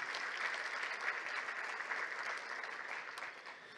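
A sustained round of applause from guests at a Korean landscape architecture day ceremony, dense and even for the full stretch, moderately loud and tapering slightly at the end.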